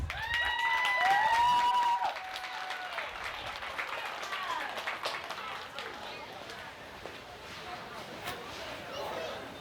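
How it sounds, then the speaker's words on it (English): Dense applause from a county fair pageant audience, loud at first and then tapering, with cheers and whoops rising over the clapping. "let's give these 2 beautiful young ladies a round of applause"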